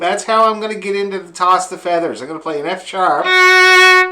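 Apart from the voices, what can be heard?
None of the usual background noises is heard.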